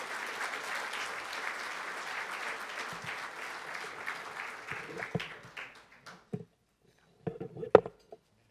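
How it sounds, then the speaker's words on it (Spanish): Audience applause welcoming Uruguay's Interior Minister Eduardo Bonomi at an evening event, a dense sustained clapping that thins out and fades after about six seconds, leaving a few scattered claps and small noises near the end. "Fuerte el aplauso para recibir al ministro del Interior,"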